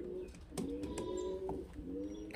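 Domestic highflyer pigeons coo softly and repeatedly at close range, their low throaty calls overlapping in short bursts with a faint chirp or two.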